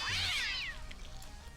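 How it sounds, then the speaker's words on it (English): A video-game cat gives a loud, drawn-out meow with sweeping harmonics that fades after about half a second, followed by quieter game background noise. "I understand that cats sound somewhat like this in real life, but my goodness,"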